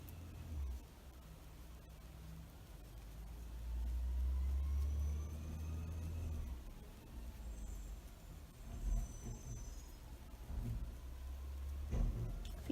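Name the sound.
garbage trucks picking up trash outside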